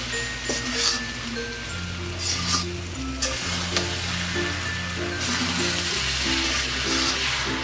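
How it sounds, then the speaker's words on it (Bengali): Chicken noodles with masala fry in a pan, a loud continuous sizzle and crackle while a utensil stirs and scrapes through them, with a low background hum and no talking. "নুডলসটা মিক্সড করা হয়ে গেছে, ভাজাও হয়ে গেছে"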